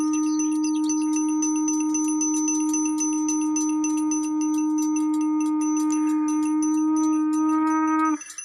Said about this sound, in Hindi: अभी जो आप ये शंख ध्वनि सुन रहे हैं, घंटी की आवाज़ सुन रहे हैं